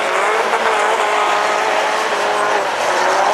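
A Twingo rallycross race car at a 2014 French championship final in Dreux accelerates hard, with a loud, continuous high-revving engine roar that stays close and steady throughout.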